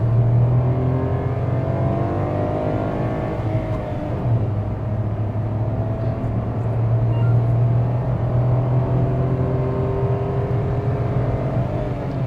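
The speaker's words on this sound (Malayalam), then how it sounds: "6000 RPM റെഡ് ലൈൻ ചെയ്യുന്നുണ്ട്." A Nissan Gravite's 1-litre three-cylinder B4D engine revs steadily, a sustained drone that holds its pitch with a slight dip and recovery midway, heard from inside the car without talk.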